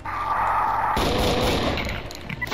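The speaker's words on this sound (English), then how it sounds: "So it takes nine shots of this thing to take him down" Heavy weapon fire in the shooter Doom, played with the Golden Souls Remastered mod, a loud close burst of booming shots with a sustained roar that tails off.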